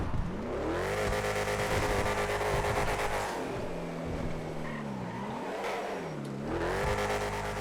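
A race car engine in GTA FiveM revs hard while drifting, its pitch rising and falling in sweeping waves over a roaring, tire-scrubbing hiss, close and steady throughout.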